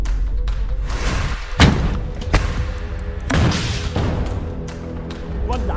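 A launcher fired from a building at a tank during the Israel-Hamas war produces several heavy booming thuds amid a continuous low rumble, the blasts spaced a second or so apart.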